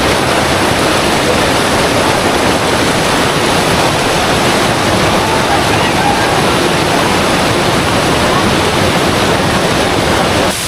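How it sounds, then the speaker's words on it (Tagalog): Water overflowing a full dam after days of continuous rain in Baler, a steady loud wash of rushing water roaring without break throughout, close and dense. "Yung dam nila punong-puno ng tubig. Humahapaw na."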